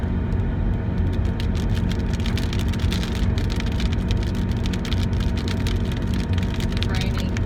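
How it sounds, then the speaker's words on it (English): Steady rain falling on a vehicle during a drive on the road to Deming, New Mexico, a dense continuous patter with sharp drop ticks over a low road and engine rumble, loud and unbroken throughout. "It's raining."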